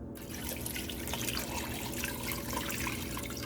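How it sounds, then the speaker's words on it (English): Water pours steadily into a cooking pot holding beef short ribs for a hearty vegetable stew, a continuous close splashing rush that runs without a break. "I am going to add 8 cups of water, or enough water to this pot"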